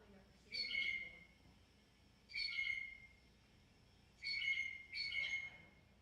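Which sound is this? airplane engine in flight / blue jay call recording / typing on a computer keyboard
blue jay call recording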